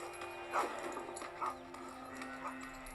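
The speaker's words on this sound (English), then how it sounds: "Random bark sound effect." A dog barks three times in short, separate yips spaced about a second apart, fairly faint, over a steady low electrical hum with no talking.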